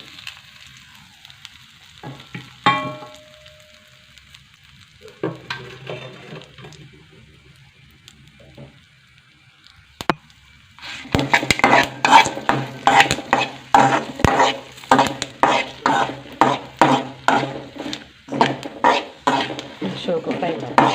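Spices frying in a pan: after quieter stretches with scattered clinks and a brief speaking voice, a loud close sizzle sets in, broken by rapid, rhythmic scraping strokes of stirring through the last half.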